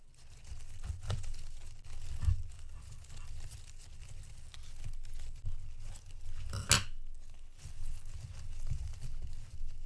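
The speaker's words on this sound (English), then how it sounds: "I'm going to try and cut it off very close to the base of the plant" A pothos vine is snipped at the base of the plant, with quiet rustling of leaves and stems and a sharp crisp snip near the middle, all close and faint.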